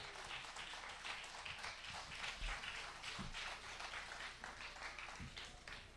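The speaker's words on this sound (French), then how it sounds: "on commence à l'applaudir, s'il vous plaît" Dense, steady applause from an audience at a music festival opening, greeting Bernard Grégoire; the clapping fills the whole stretch at an even level with no voices standing out.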